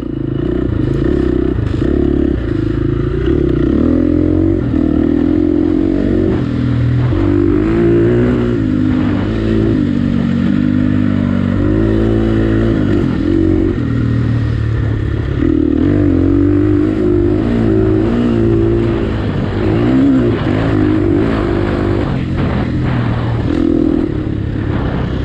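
Dirt bike ridden on an enduro trail, its engine droning and revving loudly and continuously close by, with clattering and scraping from the rough ground.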